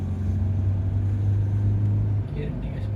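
A Mahindra Bolero SUV engine pulling in second gear, a steady low droning hum with road rumble inside the cabin, loud and constant, easing slightly near the end.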